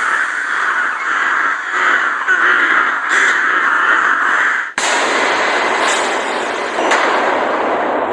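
Crows cawing as a horror sound effect, a dense flock of harsh caws overlapping continuously and loudly, with a brief sharp break midway before the raucous chorus resumes, no voices present.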